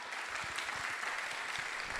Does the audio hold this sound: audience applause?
yes